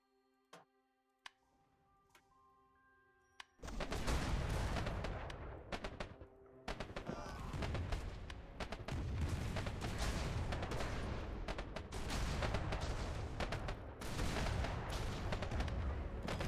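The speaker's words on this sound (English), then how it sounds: "they're trying to use rockets against us" Rockets fired in an airship strategy game: after a quiet few seconds with a couple of clicks, a loud barrage of sharp bursts and booms erupts and continues in rapid, repeated volleys.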